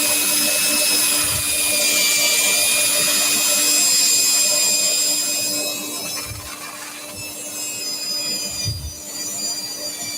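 A power sander works a wooden platter on a lathe, a steady loud whirring hum with a faint whine that runs throughout and eases slightly toward the end, with no voices.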